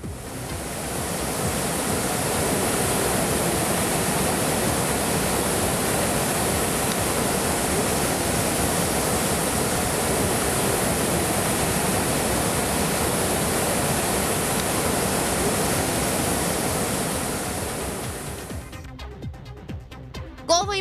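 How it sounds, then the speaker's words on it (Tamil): Kateri waterfall pouring down from over 200 feet, a steady loud rush of falling water that holds evenly for most of the stretch before fading and giving way to some light sounds at the end. "சுமார் 200 அடிகளுக்கு மேல் உள்ள மலையின் மீதிருந்து தண்ணீர் கீழே விழும் காட்சியை"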